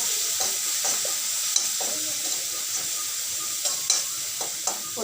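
Ground paste stirred into a hot pan for Kerala fish curry, a steady hissing sizzle with repeated soft scraping strokes of a spoon and a few sharper clinks against the pan, close and alone.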